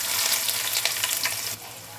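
Sliced onions dropped into hot ghee and oil with cloves, cardamom, cinnamon and bay leaf for a soya chunk pulao, a bright hissing sizzle, close and loud, easing slightly after a second and a half.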